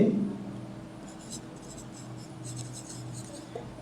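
Pen or chalk scratches out the working of a fraction subtraction in a fifth-grade maths lesson, giving short rasping strokes in quick bursts against a quiet room hum.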